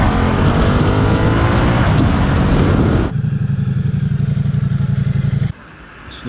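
A Ducati Multistrada motorcycle engine revs hard with the throttle held open, a loud, close, steady roar that drops abruptly to a lower idle-like drone before cutting back further near the end.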